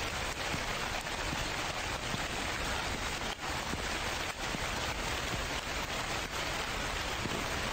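Steady broadband rain hiss fills the scene, a constant dense wash of drops falling in a convenience-store horror game, heard alone without talk.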